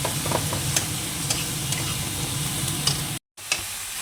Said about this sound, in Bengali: দুটো টমেটো একটুখানি হাত দিয়ে গুলে রেখে দিয়েছি তার সঙ্গে মশলাটা কষিয়ে নিই